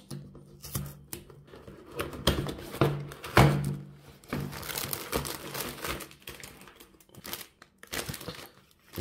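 Paper packaging around a parcel holding a vintage Armani after shave lotion is crinkled, torn and rustled open close by, with irregular bursts of crumpling and a few dull thunks and taps, and no talking.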